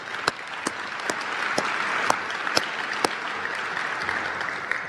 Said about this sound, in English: so let's give Rose and everybody a round of applause